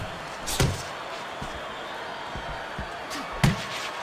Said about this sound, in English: Blocks a shot and then lands an uppercut of his own.